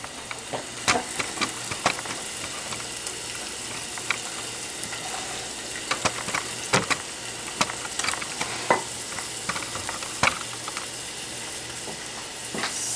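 Ingredients for beef in tomato sauce sautéing in a pan: a steady, close sizzle runs throughout, broken by frequent sharp clinks and scrapes of a utensil stirring against the pan.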